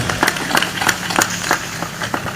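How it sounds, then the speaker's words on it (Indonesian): A live audience claps for the speaker Mas Sabrang at a talk event, a steady run of evenly spaced, crisp claps at moderate volume with no one speaking. "Boleh tepuk tangan buat Mas Abrang."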